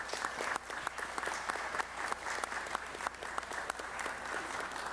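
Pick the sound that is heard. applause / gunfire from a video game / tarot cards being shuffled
applause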